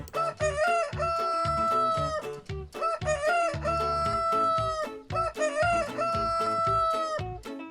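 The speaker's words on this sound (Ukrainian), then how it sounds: "це півень." A rooster crows three times in a row, each a long, loud cock-a-doodle-doo with brief pauses between, close and clear.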